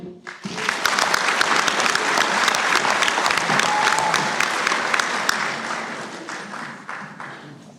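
Graduation audience at a University of Galway autumn conferring ceremony applauds and cheers loudly and steadily for nearly eight seconds, a dense wash of clapping that fades slightly toward the end.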